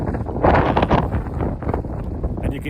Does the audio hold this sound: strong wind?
yes